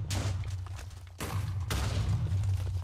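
Explosions and gunfire rumble in a video game, a dense fusillade of booms and thuds with sharp bursts around one and two seconds, steady and loud throughout with no talk.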